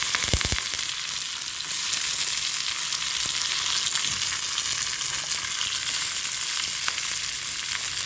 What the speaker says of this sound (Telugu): పోపు వేగుతుందండి. మిరపకాయలండి, ఉల్లిపాయలు